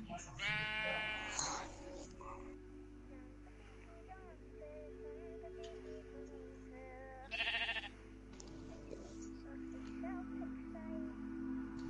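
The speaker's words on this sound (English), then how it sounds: "Pigs and sheep." Sheep in the Minecraft video game bleat in a few short quavering calls, one near the start and another midway, over a quiet steady game hum.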